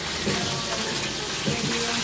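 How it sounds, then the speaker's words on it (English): Steady broadband hiss of beef sizzling in a hot pan while cooking paella, continuous and fairly close, with faint voices in the background. "See, and it's sizzling"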